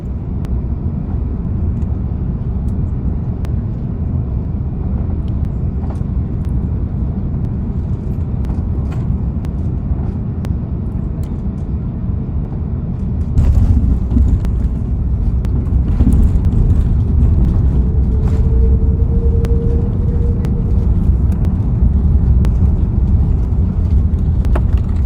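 A Condor Airbus A330-200 airliner touches down at Hamburg, heard from inside the cabin as a steady loud roar of engines and wind, which deepens and rumbles more heavily partway through as the wheels meet the runway and the aircraft decelerates.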